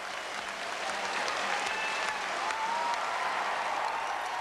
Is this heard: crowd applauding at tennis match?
yes